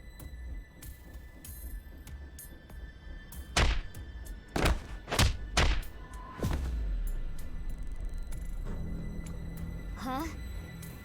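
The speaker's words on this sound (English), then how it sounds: "Why did you punch him out of nowhere like that?" A punch knocking someone out in the video game AI: The Somnium Files – nirvanA Initiative: a quick run of four or five dull, heavy thuds over a murmuring background, followed by a steady low hum, with a voice present.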